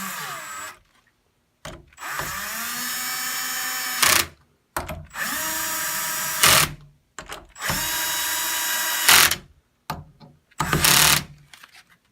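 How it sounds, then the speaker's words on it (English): Screws being tightened with a 5/16 nut driver on an MHL/ML 07 unit: a power driver whirs in several separate bursts of a few seconds each, rising in pitch as it runs, with brief silences between, loud and close. "Now, once again, let's tighten with the 5/16 driver."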